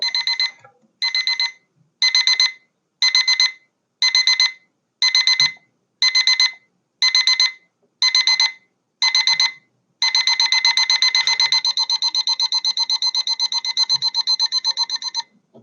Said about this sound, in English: So I'm going to set my microphone so you can hear the alarm.